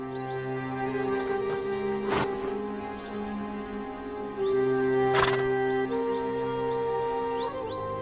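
Yakut horses in frozen Siberia, with soft animal calls and a couple of sharp snorting bursts over a steady sustained tonal background, fairly quiet and with no talking.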